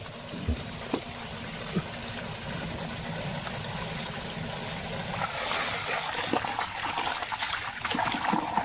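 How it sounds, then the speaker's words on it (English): Water trickling and dribbling in a plumbing job, a steady close wash of flow that grows slightly stronger midway, with faint knocks. "I hope that's not sewer water"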